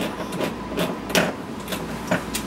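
Several sharp metallic clicks and snaps at irregular intervals as a 4-ounce tomato paste can is punctured and pried open, fairly close with a faint background hiss.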